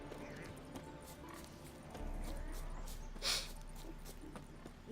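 Soft, steady clip-clop of horse hooves in quiet ambience of the game The Witcher 3: Wild Hunt, with a brief brighter swish partway through.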